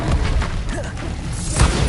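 The Flipendo spell cast in Hogwarts Legacy, a short, dull booming impact with a thud and a faint whoosh, heard on its own and close up.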